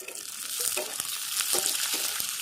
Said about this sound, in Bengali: ভালো করে ভেজে নেব একটু